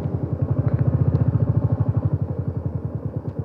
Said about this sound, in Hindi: अब कर दिया बाइक बंद, पेट्रोल की सेविंग स्टार्ट।